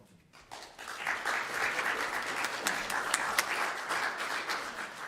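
Audience applause fills a hall at a Unitarian Universalist assembly, a dense, steady wash of many hands clapping that carries on at even loudness for several seconds without any voices over it.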